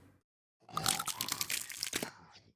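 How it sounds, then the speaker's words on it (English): A single burst of crisp, wet crunching and snapping, like biting into a stalk of celery, loud and close, lasting about a second and a half before trailing off. "celery crunch can come down a few"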